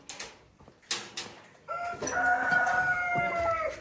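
A rooster crows loudly and close by, a long drawn-out call after a few short clucks and rustles at the start.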